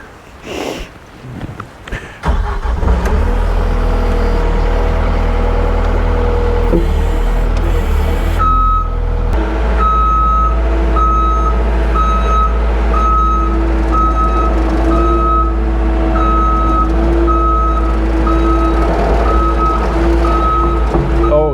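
An old Mustang loader moving straw runs loudly close by, its engine droning steadily while a regular series of reversing beeps repeats for the last half.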